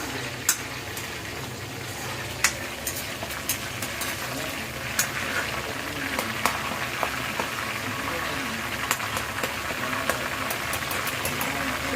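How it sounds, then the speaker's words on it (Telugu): Green chillies and curry leaves frying in hot oil, a steady crackling hiss with scattered sharp pops and spits throughout. "అవి కూడా ఫ్రై అయిపోతున్నాయి కదా"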